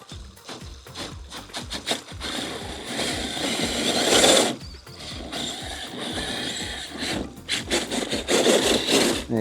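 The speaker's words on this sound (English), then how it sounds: "I'm going to pop it into front wheel drive." Rlaarlo JK07 Pro RC crawler grinds over rocks in front wheel drive, its gears whining and clicking in rising and falling bursts, with scraping of tires on stone close by.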